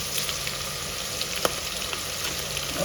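Curry leaves dropped into a masala frying in a pan for paneer masala, giving a steady close sizzle throughout with one brief sharper crackle partway, and no voices.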